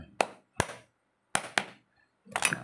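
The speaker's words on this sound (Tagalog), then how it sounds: "So gagawin lang natin diyan ay pukpukin lang natin yan." Sharp metallic hammer blows on a bulge on an electric fan shaft ring out, a few separate strikes spaced irregularly with brief silences between, close and fairly loud.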